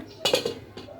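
A metal lid is set onto a cooking pot of simmering fish curry, giving a couple of short close clanks followed by a lighter clink.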